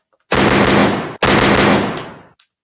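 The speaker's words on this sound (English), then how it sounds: "I got to get my gunshots on that." A gunshot sound effect fires as two long, loud bursts of rapid gunfire, each lasting nearly a second with a brief gap between them, and nothing else around them.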